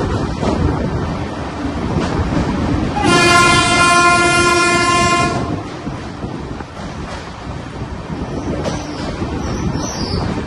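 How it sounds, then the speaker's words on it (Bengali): The Sairang Kolkata Express rolls along with a steady loud rumble and rattle, and its horn blasts once for about two seconds partway through while the train keeps running. "আমাদের ট্রেন ফাইনালি বাংলার নবাবদের জায়গা মুর্শিদাবাদ জংশনে পৌঁছে গেছি"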